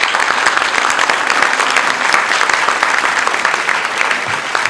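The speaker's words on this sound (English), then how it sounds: "Let's give him another nice big round of applause." A crowd at a George Burns and Gracie Allen tribute show gives a loud, sustained round of applause, a dense even roar of clapping with no talk over it.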